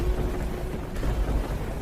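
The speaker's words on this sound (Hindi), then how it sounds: "रात को तेज बारिश शुरू हो जाती है" Heavy rain pours down at night in a steady, dense wash of noise with faint low rumbles, continuous and close throughout.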